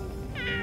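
A single short cat meow, close and clear, rising then falling in pitch over a fraction of a second.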